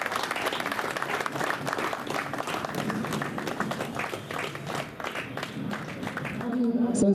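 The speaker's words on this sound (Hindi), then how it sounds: "जोरदार तालियों के साथ इनका स्वागत किया जाए" A hall crowd claps steadily for a retired brigadier being honoured at a Rajput Sabha Dussehra weapon-worship event, dense applause close by that swells again near the end with a voice over it.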